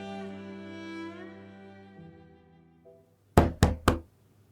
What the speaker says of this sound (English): Laurie hears a knock at her apartment door